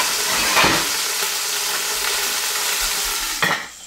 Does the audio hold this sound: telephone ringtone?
no